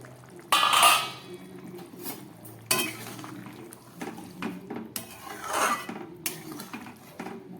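A lid clanks onto a pan of Bengali egg curry simmering over a low gas flame: a couple of sharp, close metallic clatters followed by softer scrapes and light rattling, with no voices.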